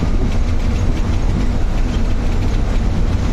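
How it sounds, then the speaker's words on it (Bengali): A train rumbles across the Padma Bridge on the rail deck beneath the road, making a loud, steady, close rumble with no pauses. "রেল চলাচল করছে।"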